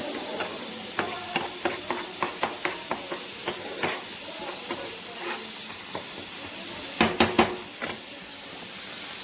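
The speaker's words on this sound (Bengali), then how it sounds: "আর এদিকে সিটি পড়তে শুরু করেছে।" A pressure cooker cooking chicken gives off short steam puffs and hisses, a string of brief bursts followed by a louder cluster of quick releases, fairly faint and without talk.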